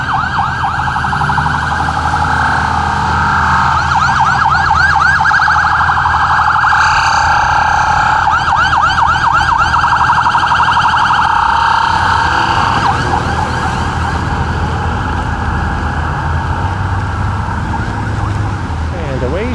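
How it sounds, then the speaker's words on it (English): A police car siren wails continuously on a snowy midtown Toronto street in February, loud and fairly near, with a steady rising and falling pitch over constant traffic rumble. "As a police car is trying to make its way this way. Now its lights and sirens are off."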